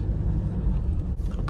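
Road traffic on a Kashmir road trip at dusk, a steady low rumble of passing cars and engines nearby, continuous and fairly loud with no talk.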